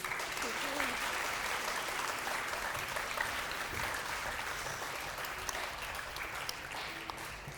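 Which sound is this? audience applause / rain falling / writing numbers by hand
audience applause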